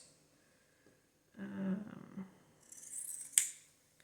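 Scissors snip through paper during Halloween junk-journal crafting, with a few close, quiet cuts and rustles and a sharper snip near the end.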